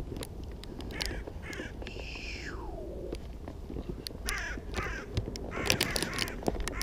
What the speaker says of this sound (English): That's a melodious crow voice.